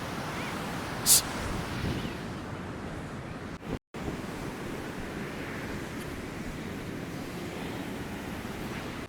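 Surf washing onto a beach in Goa beside a lifeguard's watch stand, a steady broadband roar of waves with wind buffeting the microphone, one sharp brief noise early and a momentary dropout midway, no talk.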